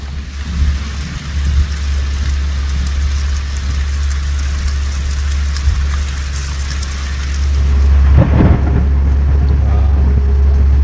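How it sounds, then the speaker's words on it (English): Heavy rain hisses steadily on a shanty boat under a low rumbling drone of thunder, swelling louder near the end with a burst of crackling noise. "There's a torrential downpour."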